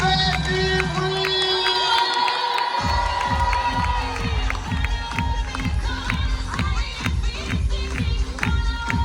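Crowd at the Nice carnival flower battle on Place Masséna cheering and shouting loudly, with children's voices over a driving, rhythmic pounding beat from the parade music, dense and continuous.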